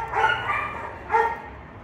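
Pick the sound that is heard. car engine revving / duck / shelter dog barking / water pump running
shelter dog barking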